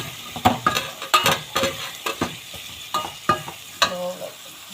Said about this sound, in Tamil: அடுப்பு வந்து கிண்டிகிட்டே இருங்க, இல்லை விட்டுறாதீங்க.